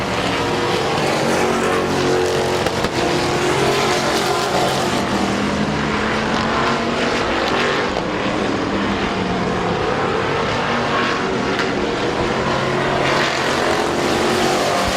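Race cars at Midvale Speedway hold a tight battle among the top three, the leader running the bottom of the track; their engines blend into one loud, unbroken roar that drones steadily throughout.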